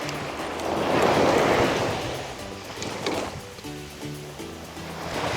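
Ocean surf rolls in at a beach in Bonita Springs, Florida, with the tide coming in. A steady wash of waves swells and fades close by, with no talking.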